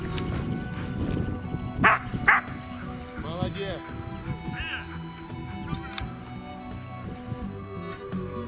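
Hunting dogs bark in short bursts amid rustling outdoors in a gully, flushing pheasants that flap and squawk nearby, with people talking throughout.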